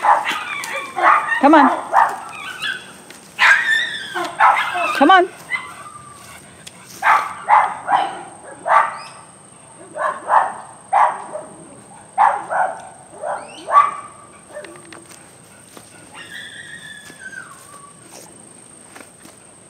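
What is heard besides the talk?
dogs barking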